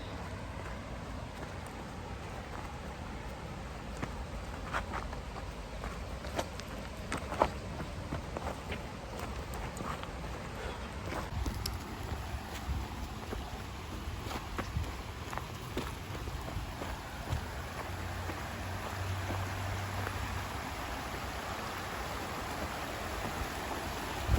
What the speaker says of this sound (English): Nice little river. Coming downhill